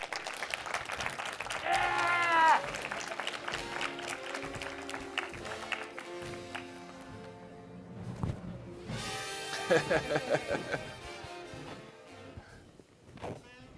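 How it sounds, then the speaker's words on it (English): Audience applause welcoming a guest onto a stage at a podcast and adaptation panel at SXSW 2022, with bursts of clapping and crowd noise that swell and fade across the clip, mixed with voices and music-like tones. "Let's get a big round of applause for Mr. Ellroy."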